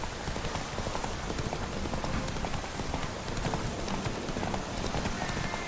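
Horse hooves clop in a fast, steady gallop in The Witcher 3: Wild Hunt, a dense continuous clatter close up, with a faint rain-like hiss in the background.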